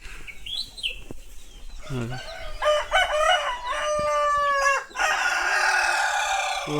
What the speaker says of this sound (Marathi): कोंबडे बघ किती येतो